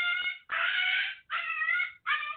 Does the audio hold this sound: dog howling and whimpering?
yes